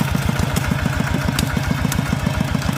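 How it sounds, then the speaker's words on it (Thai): A driverless tractor runs on its own across a farm plot, its engine chugging in a steady, rapid, even pulse, close and loud with a light clatter on top. "ปล่อยให้รถไถไปเองเลย"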